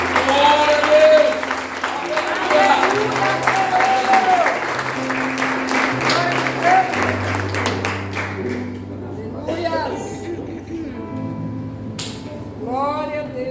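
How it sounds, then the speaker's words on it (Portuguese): A church congregation applauds during a worship service, with dense sustained clapping at first that thins out over time, mixed with music and sung or spoken voices. "Você pode aplaudir ao Senhor?"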